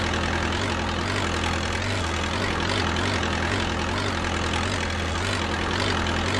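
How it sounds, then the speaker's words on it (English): Forklift driving in a VR forklift certification training simulator, a steady loud low engine hum with a pulsing drone running throughout, with no talking. "Drive the forklift backward into the center of the aisle where you initially parked."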